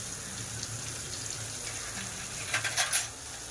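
Lekru fish frying in a pan of oil, a steady soft sizzle with a brief louder crackling spurt near the end, no talk.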